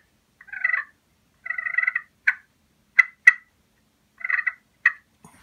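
A hunting call imitates a turkey's cluck and purr: short rolling purrs alternate with a few sharp single clucks, sparse and clear against silence.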